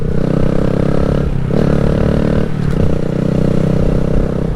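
A 2020 Honda Grom motorcycle engine hums steadily and close by on an early morning ride, with a brief dip in engine note midway before the steady drone resumes.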